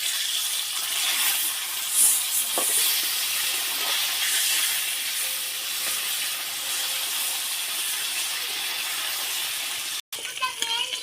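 Rupchanda fish sizzling in hot oil after being turned over in the pan: a continuous close hiss with faint spits and crackles that cuts off abruptly near the end.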